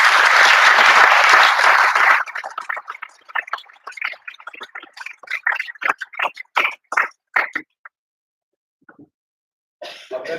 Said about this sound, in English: round of applause to Steve.